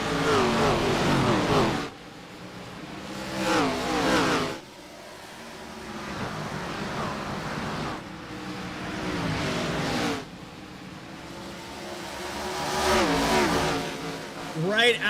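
Race cars in a sim-racing game roar off the start at Bristol Motor Speedway, loud engines revving and rising in repeated surges as the pack accelerates, with commentary voices over the top.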